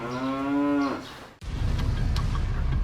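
A cow lets out one loud, close, drawn-out moo, which breaks off abruptly and gives way to a steady rumbling background noise.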